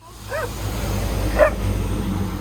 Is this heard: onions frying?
no